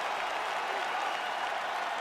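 Arena crowd in the EA Sports UFC 5 video game cheering and applauding at the end of a full 25-minute fight, a steady loud roar of clapping and voices throughout.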